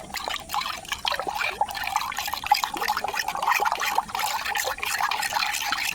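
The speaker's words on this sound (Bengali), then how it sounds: "এবার হচ্ছে জলটাকে ভালো করে মিক্স করে দিতে হবে।" Water is stirred and mixed in a container, making continuous close splashing and swirling with irregular sloshes and trickles, steady throughout.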